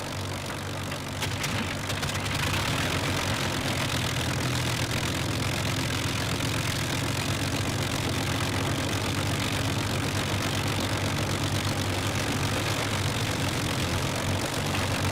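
Avro Lancaster piston engines idle during start-up with a constant deep droning hum and rumble, steady and loud throughout with no talking.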